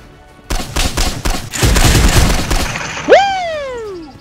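A rapid volley of gunshots in the survival game Miscreated, a loud close burst of repeated shots followed by a sharp boom with a ringing, falling tail.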